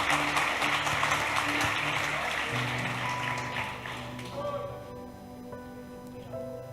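A church congregation applauds loudly and densely at first, then the clapping thins and fades over several seconds while organ or keyboard tones linger underneath.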